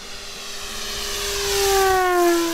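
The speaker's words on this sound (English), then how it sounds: "I'm climbing now at half throttle and do a full power pass." RC Yak-11 warbird model plane, an H-King 1450mm electric propeller aircraft, making a full power pass: a whining motor drone rises in pitch and swells in loudness as it approaches overhead.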